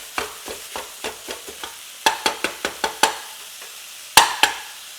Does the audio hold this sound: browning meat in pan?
yes